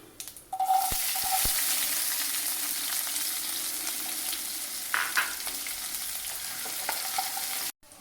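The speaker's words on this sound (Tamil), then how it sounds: "கடுகம் நல்லா பொஞ்சி வந்துட்டு இந்த நேரத்தில் இந்த சின்ன வெங்காயத்தையும் சேர்த்துக்கும்" Small shallots fry in hot oil with spluttered mustard seeds, giving a loud, continuous close-up sizzle with a few scraping stirs and no talking.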